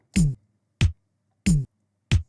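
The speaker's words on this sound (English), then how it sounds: "And now our kick sounds like this, our kick pattern." Four punchy programmed kick drum hits with a bright click on top, evenly spaced in a steady loop, for a reggaeton beat.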